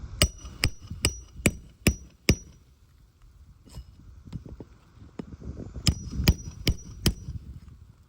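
Sharp hammer strikes nailing a shingle on a roof, a quick series of six blows, a pause with faint scraping, then four more evenly spaced hits.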